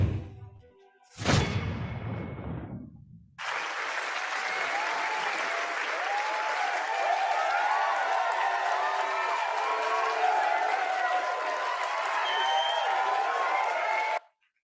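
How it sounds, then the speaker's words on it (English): Summit audience applauding steadily and loudly for about eleven seconds after a brief burst of noise, a dense wash of clapping from a large room that stops abruptly. "I thought you'd be clapping as well"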